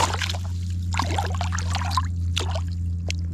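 A bass caught from a paddle board is let back into river water, giving soft splashes and trickles in short bursts over a steady low hum.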